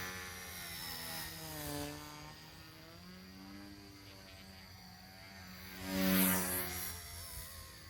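A small XK K110S Falcon 3D micro RC helicopter in flight, a faint, thin rotor buzz whose pitch rises and falls as it maneuvers, swelling briefly louder near the end.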